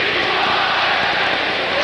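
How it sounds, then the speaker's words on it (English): Hockey arena crowd at a 1983 New York Islanders versus Boston Bruins conference finals game, a dense, roaring mass of voices chanting together, loud and continuous with no gaps. "The crowd sets up another chant."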